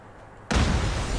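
A grenade explodes in Call of Duty Mobile: a sudden loud blast after a quiet moment, followed by a sustained rumbling roar.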